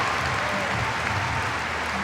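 A gymnastics arena crowd at a women's all-around artistic gymnastics final applauds in a dense, sustained wash of clapping with no breaks.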